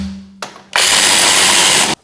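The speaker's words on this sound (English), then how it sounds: "I'm going to spin these on with the electric ratchet" An electric ratchet spins brake bolts on a Chevrolet Colorado/GMC Canyon, a brief tap followed by a loud, steady high-pitched whir lasting just over a second before cutting off abruptly.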